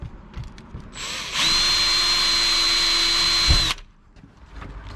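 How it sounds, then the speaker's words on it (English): A power drill with a 1/8 inch bit whines at a steady high pitch for a couple of seconds as it bores through storm door metal, then stops abruptly. "I'm going to take that 1/8 inch drill bit,"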